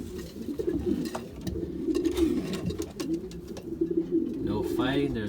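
Racing pigeon hens coo in a breeding loft while sitting in nest bowls, a dense overlapping chorus of low, throaty coos close by, with a few brief wing flutters and shuffles.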